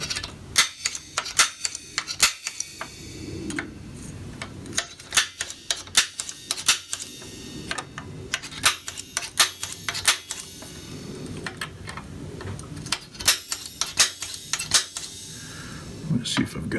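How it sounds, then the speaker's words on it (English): Automatic spring-loaded center punch snapping repeatedly into metal while building loft brackets, sharp close clicks in an irregular series, with some quiet handling noise between strikes. "this is an automatic center punch. It's got a spring in there, so you just shove down, it reaches a certain point"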